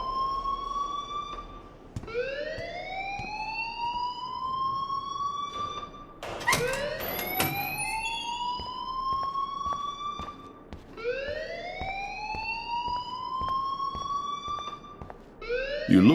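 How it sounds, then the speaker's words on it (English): In the video game Life Is Strange, a fire alarm wails in loud, repeating rising sweeps about every four seconds, with a harsher burst near the middle. There is no talk. "please turn off that alarm since that's your job"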